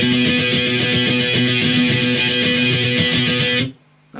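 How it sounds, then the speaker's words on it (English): A distorted electric guitar plays a simple octave shape from the bridge of Blink-182's Aliens Exist, a loud, sustained, steady riff that cuts off sharply near the end. "the first part then is bridge A, which is just a dead simple octave shape,"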